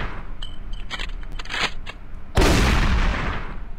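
Gunshots in an Android shooter game played on a PC through BlueStacks: several sharp shots early on, then a loud heavy blast that lingers as a dense rumbling roar.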